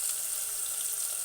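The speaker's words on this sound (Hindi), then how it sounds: "अब ये देखिए, मैंने इसमें डाल दिया पानी" Water poured into a hot pan of frying turmeric, chilli and salt gives a brief, steady bright sizzling hiss, close and fairly quiet, with no talk.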